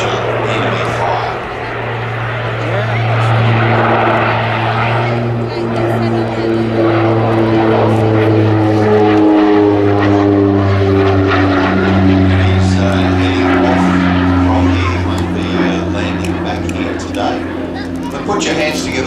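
A North American Rockwell OV-10 Bronco twin-propeller aircraft flies a display at the Midlands Air Festival, its loud droning engines rising and falling in pitch as it passes, while an announcer talks over a public address system.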